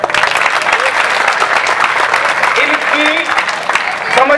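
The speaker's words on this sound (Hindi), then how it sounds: "जोरदार तालियां" Loud, sustained audience applause at a live comedy show, a thick continuous roar of clapping with crowd voices mixed in.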